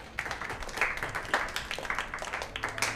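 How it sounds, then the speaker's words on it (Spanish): An audience applauds for an arriving actor with a quick patter of many clapping hands, moderately loud and steady for a few seconds. "¡Fuerte ese aplausito!"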